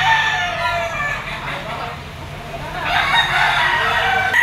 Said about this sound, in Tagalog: Katulad nito mga manok na to mga tol